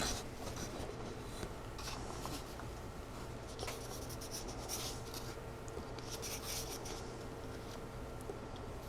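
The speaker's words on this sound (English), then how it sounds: "And mark my 1/2 inch on the tube itself." A pencil scratches a half-inch mark onto a cardboard body tube for an Estes Sasha model rocket, giving soft, close, repeated scraping strokes in short bursts against quiet background hiss.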